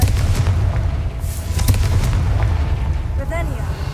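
A Confringo fire-blast spell in Hogwarts Legacy bursts with a loud booming explosion over a rumbling low bed, with sharp crackles near the middle and a brief swirling magical shimmer at the end.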